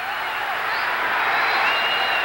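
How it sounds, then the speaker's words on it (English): Boxing crowd at Cobo Arena on its feet during a late-round exchange, a loud, sustained roar of cheering and applause that builds slightly toward the end. "Crowd on its feet here at the Cobo Arena."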